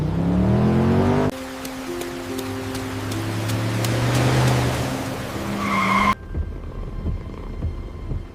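Tires skid and squeal loudly as cars race through a rainy night chasing a girl, with engines roaring and a screech that cuts off abruptly, leaving rain and rumble behind.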